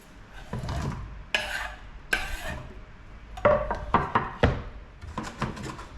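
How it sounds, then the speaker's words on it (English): Onion goes into a cooking pan over heat and is stirred; a wooden utensil scrapes and knocks against the pan in uneven strokes over a soft sizzle, close and fairly quiet. "let's put the onion in"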